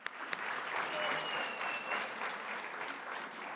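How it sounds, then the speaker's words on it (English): An audience at the Clinton Global Initiative 2024 meeting claps in a brief, even round of applause, soft and fairly distant throughout. "Let's give them one more round of applause."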